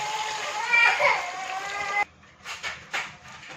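Yakhni stock pours into a pot of beef pulao, a brief splashing gush followed by a few softer splatters, with a voice audible near the start.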